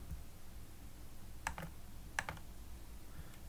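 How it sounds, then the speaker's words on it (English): Computer keys and a mouse click twice in a quiet room, each a faint short tap against low steady background hum. "press the control and click on this 45"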